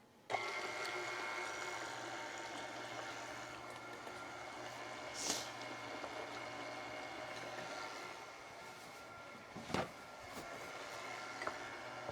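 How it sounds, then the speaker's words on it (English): An electric stand mixer with a paddle attachment churns squash casserole, giving a steady mechanical whir with faint rattling that runs evenly throughout, punctuated by a few brief clinks. "I'm going to go ahead and let this start mixing, and then I'll crack the egg. I use the paddle on this"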